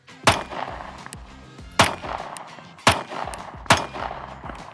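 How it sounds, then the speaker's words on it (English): Glock 43X pistol fired at a steel target outdoors: four loud, close gunshots spaced about a second apart, each with a reverberating tail and fainter clanging hits in between. "Let me shoot it again, see what happens."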